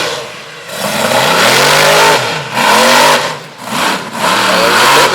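A monster truck engine at a night arena event in Manassas, Virginia roars through repeated full-throttle revs, loud and close. Three surging bursts rise and fall with brief dips between them, as if the throttle outpaces the truck.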